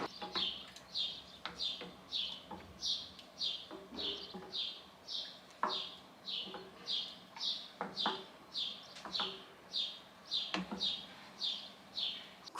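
Morning birdsong repeats in a steady rhythm of bright, high chirps, about two per second, clear and fairly near over a quiet background with a few faint knocks.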